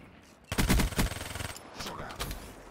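Rapid automatic hipfire from the Vesper SMG in Black Ops 3, a tight burst of fast gunshots lasting about a second, loud and close, followed by fainter scattered shots and game noise.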